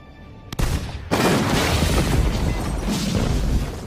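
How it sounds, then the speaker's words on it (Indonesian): A sudden deep boom erupts as a gas station explodes in a film, then a loud sustained roar of fire and rumbling debris continues without pause, dense and close. "Dennis menembak freon yang membuat pom bensin itu meledak untuk kedua kalinya"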